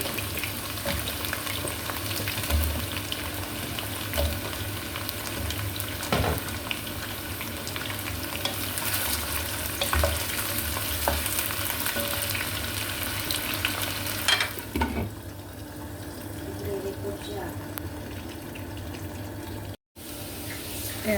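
Eggplant sizzling and frying in a pan while being stirred, a steady close crackle with scraping strokes that drops to quieter sizzling near the end.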